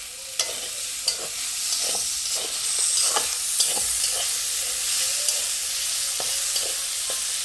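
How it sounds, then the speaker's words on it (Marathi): Tomatoes go into a pan of frying wild kantola vegetables, bringing a steady close sizzle and hiss with light stirring scrapes and taps scattered throughout. "तर आता आपण टमाटर टाकूया त्यामध्ये"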